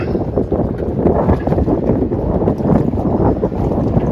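Strong stormy wind buffets the microphone in a steady, heavy rumble, with gusty surges and no voices, at a yacht club where a crane lifts boats out.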